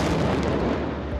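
Explosions in the courtyard of an overcrowded hospital in the Gaza Strip, heard as a dense, loud, rumbling blast that fills the whole short moment.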